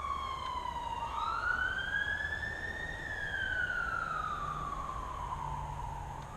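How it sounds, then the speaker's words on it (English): A wailing ambulance siren sweeps slowly up and down in pitch, loud and steady, passing fairly close over a constant background rumble. "Was that an ambulance?"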